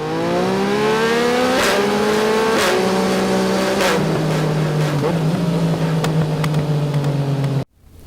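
A 2022 Yamaha R7 motorcycle engine pulls hard through several rising revs, each climb broken by a sharp gear change, loud and close with no talk, before cutting off abruptly near the end.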